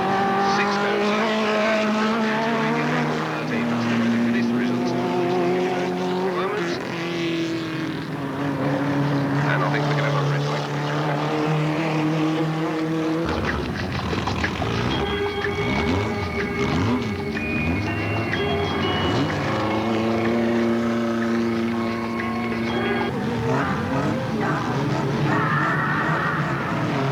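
Standard rod race cars with 1300cc motors roar off together at Alwalton Raceway, a loud, sustained pack of revving engines rising and shifting pitch as they accelerate away, with a commentator talking over the noise.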